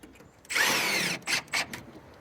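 A cordless power drill drives a stainless steel screw into a fence panel, one long whirring run followed by two short bursts, close and clear with no talking.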